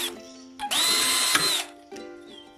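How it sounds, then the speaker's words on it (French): A power drill bores two holes near the edges of a metal profile, with two bursts of whining, high-pitched drilling, the longer one near and loud, separated by brief pauses. "Prenez un morceau de profilé métallique et percez 2 trous dedans sur les bords."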